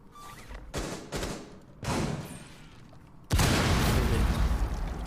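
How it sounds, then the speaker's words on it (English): Explosions and gunfire during a competitive esports finals match in a tactical shooter, several muffled blasts followed by a loud sustained burst of rumbling detonations, with no voices. "Explosions going out, opening everything up here."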